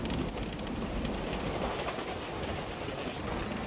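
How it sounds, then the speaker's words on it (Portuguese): A passenger train approaching Aguas Calientes in the Peruvian Andes rumbles steadily with a dense, continuous roar of wheels and carriages, with no voices over it. "O trem se aproxima de Águas Calientes."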